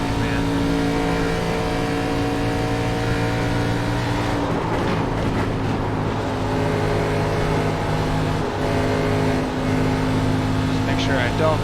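A race car engine in the iRacing sim drones steadily at close range, its layered harmonic hum holding a constant, throttle-managed note through the lap with slight pitch shifts and no break.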